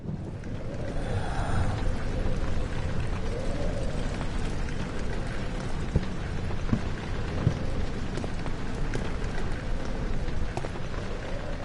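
Steady, dense rainfall fills the Rainy Hall level of the horror game Amnesia: The Dark Descent, a constant wash of rain with occasional soft knocks and no voices.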